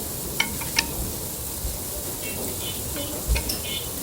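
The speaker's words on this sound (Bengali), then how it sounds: "এখন আবার মুগ ডাল ভেজে নিব" Mung dal frying in a pan for bhuna khichuri, a steady soft hiss of sizzling with a few sharp clinks of the spoon against the pan.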